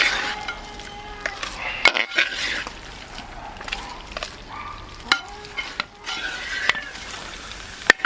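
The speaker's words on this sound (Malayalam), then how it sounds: "നന്നായിട്ട് മിക്സ് ചെയ്ത് യോജിപ്പിച്ച് കൊടുക്കാം." Beef roast frying in oil in a pan in a Kerala kitchen, stirred with a spoon, giving a steady sizzle broken by irregular scraping clinks against the pan, close and moderately loud, with no talking.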